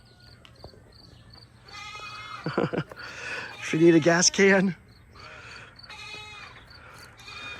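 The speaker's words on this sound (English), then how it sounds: "You see all the goats back there." Goats bleating behind a yard sale, several loud, wavering bleats overlapping in the middle of the clip, close and clear, while someone talks before and after.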